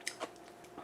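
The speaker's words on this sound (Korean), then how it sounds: "이 사각사각 하는 소리 들리나요?" Crunchy chewing of pickled Korean radish (mu-jangajji) seasoned in soy brine, a few crisp close-up bites in quick succession, faint and alone with no talk.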